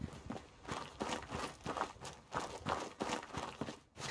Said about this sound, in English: Project Reality Footsteps changes almost all footstep sounds into more realistic ones, including a subtle gear and backpack rattle.